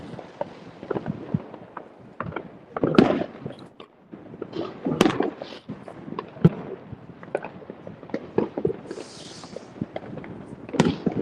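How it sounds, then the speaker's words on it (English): Fireworks exploding at a 2025 display in Spain, a dense irregular barrage of sharp bangs and crackling bursts at varying distances, some loud and close, with no talking. "Do you have loads of fireworks in Brighton"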